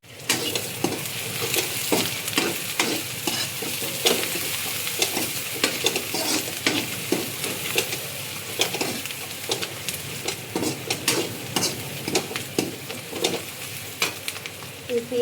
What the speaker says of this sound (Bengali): পেঁয়াজটা এখন আমি কিছুক্ষণ ভেজে নেব